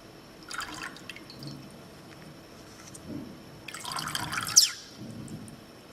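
Tap water splashes and drips while a syringe is rinsed of sodium carbonate solution during a leaf-disc photosynthesis experiment, in two short bursts of close splashing separated by quieter room tone.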